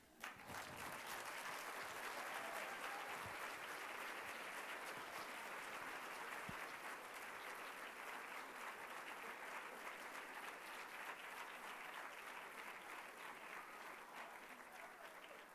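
Sustained audience applause after a keynote performance at a women's fund annual dinner, dense clapping from a large crowd that swells quickly and holds steady for the whole stretch, fairly distant in a large hall.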